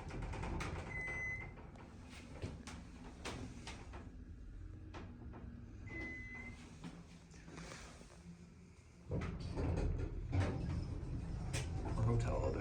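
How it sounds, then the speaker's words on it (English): Doors of an Otis Series 1 hydraulic elevator in a hotel slide shut with soft mechanical rumbles and clunks, a couple of brief electronic beeps and a louder thud near the end, with faint talk at times. "Instant door close."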